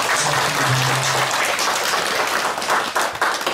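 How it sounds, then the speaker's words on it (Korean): An audience at a book launch ceremony with Buddhist monks applauds in a sustained, close round of clapping, a brief low tone sounding early on. "다시 한번 박수 부탁드립니다."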